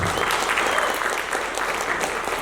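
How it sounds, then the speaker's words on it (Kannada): An audience applauds after a film trailer screening, a brief burst of steady, dense clapping from a crowd, fairly loud and close throughout. "ಏನೋ ಸ್ವಲ್ಪ ಚಪ್ಪಾಳೆ ಕಮ್ಮಿ ಕೇಳಿಸುತ್ತೆ"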